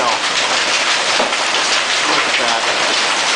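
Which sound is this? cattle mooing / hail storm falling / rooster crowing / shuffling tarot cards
hail storm falling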